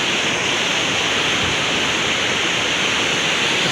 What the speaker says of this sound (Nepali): देख्न सक्नुहुन्छ यता खोला छ